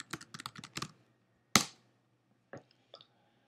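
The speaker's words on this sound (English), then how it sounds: "In this case, let's type in management." Computer keyboard typing a search term into a search function: a quick burst of clustered key clicks, a louder single keystroke, then a few sparse taps, close and alone.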